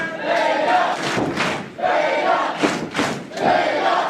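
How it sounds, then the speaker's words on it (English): Loud arena crowd at an SLA Circus Maximus XII wrestling match chanting and cheering in repeated rhythmic surges, swelling and dipping for a few seconds with brief lulls between bursts. "This crowd trying to get behind Vega"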